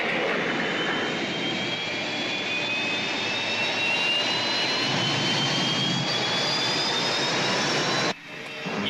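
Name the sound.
rescue spaceship engine departing, sci-fi effect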